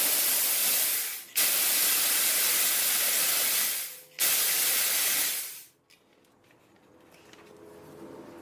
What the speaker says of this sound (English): I'm going to use this nozzle here and just see if we can clean it this way.